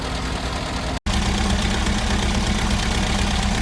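Innocenti with twin carburettors and an ignition-circuit resistance fault, running at a steady idle with a loud, even mechanical drone and knock, briefly cut by a momentary dropout.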